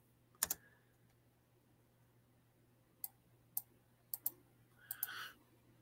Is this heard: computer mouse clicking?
yes